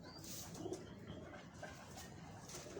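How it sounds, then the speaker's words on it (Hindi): Pigeon cooing from a rooftop loft in Karachi, soft repeated low coos over steady background noise, faint and somewhat distant. "उनमें से उन्होंने मुझे ये कबूतर दिया था।"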